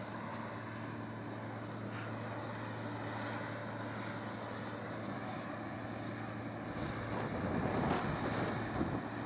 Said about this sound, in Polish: Ogólnie przyjemny wiatr.